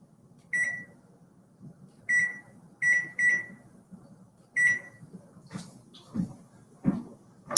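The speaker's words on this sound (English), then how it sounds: "I'm going to set a timer." Kitchen timer being set while day-old bread toasts for a tofu banh mi, giving several short, bright electronic beeps spaced irregularly, followed by a few soft clicks and knocks, with no talking.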